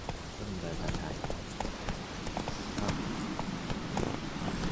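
Roach, the horse in the video game Witcher 3, gallops with a steady run of hoofbeats close up, over a constant layer of game ambience.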